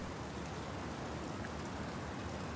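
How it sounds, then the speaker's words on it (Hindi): Steady rain falls in a dense, even hiss of drops that stays constant throughout, faint and with no voices over it. "ये हमारी पहली बारिश है"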